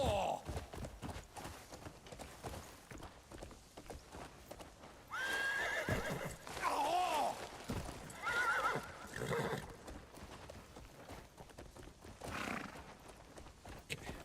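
A horse in a video game whinnies several times in loud bursts over quieter clip-clopping hooves and footsteps, with a voice speaking at moments.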